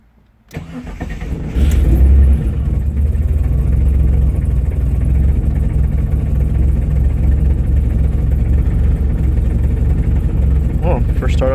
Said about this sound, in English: First startup with fuel injector clinic 850 cc injectors